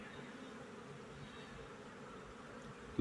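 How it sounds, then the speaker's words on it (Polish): Many honeybees crowd a hive entrance, making a faint, steady, continuous buzzing hum with no voices. "tak coś tej pszczoły dużo jest na tym wylotku"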